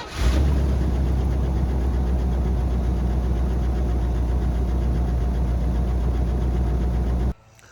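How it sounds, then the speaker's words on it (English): An old Pontiac car engine idles steadily and smoothly, a loud close rumble with a faint knock that runs unbroken for about seven seconds before cutting off abruptly. "Well, the old Pontiac does run and runs pretty smooth."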